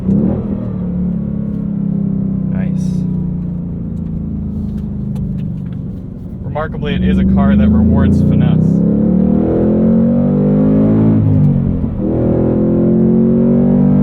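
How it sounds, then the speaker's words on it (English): A 2022 Ford Mustang Mach 1 V8 rumbles loudly from inside the cabin while driving, its tone rising and falling with throttle changes under people talking in the car. "The engine's blowing out my mics a little on this side."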